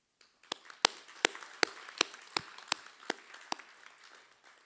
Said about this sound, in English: Please join me in a round of applause to thank our amazing hosts